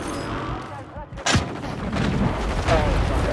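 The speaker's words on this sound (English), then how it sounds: "They're shooting." Gunfire in Warzone 3, a sharp crack near the middle followed by denser rattling shots, all under a busy game mix and a player's voice.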